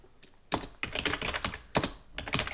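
Code being typed on a computer keyboard in bursts of quick, close clattering keystrokes with brief pauses between runs, no talking.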